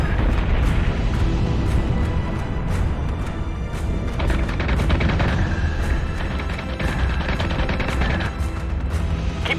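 Heavy ship batteries firing in the space combat video game Battlestar Galactica Deadlock, a loud continuous barrage of booming shots and rapid cannon fire layered over a rumbling battle din.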